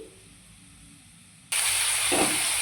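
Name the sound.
grinding black mustard seeds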